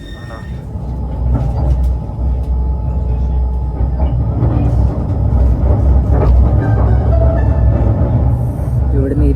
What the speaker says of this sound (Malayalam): ഇതാണ് ട്രാം.